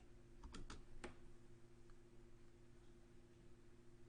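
Several quick keystrokes on a computer keyboard, clustered near the start as a formula is typed, then fading into a steady low room hum with no talking.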